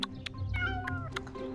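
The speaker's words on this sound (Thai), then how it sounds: "แมวตัวนี้ยังไม่รู้จักเธอก็ไม่รู้จักเขา" A cat gives a short run of meows, several plaintive calls in quick succession, close and clear against a quiet background.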